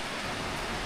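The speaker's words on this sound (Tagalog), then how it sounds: "So antayin ko na lang tumila talaga yung ulan." Rain falls steadily as a dense, even broadband hiss, fairly loud and unbroken for just under a second, with no voices.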